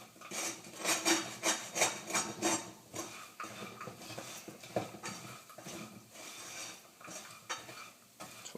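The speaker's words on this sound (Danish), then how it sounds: "Mandlerne er også begyndt at give lyd fra sig" Almonds crackle and scrape in a pot of melting sugar while being stirred for liquorice burnt almonds, a steady close rasping clatter with rhythmic stirring strokes, no talking.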